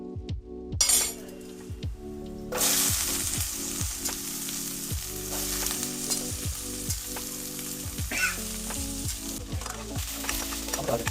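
Garlic dropped into hot oil bursts into a loud, bright sizzle after a quiet start, continuing close and strong with repeated clinks and scrapes of a ladle against the pan.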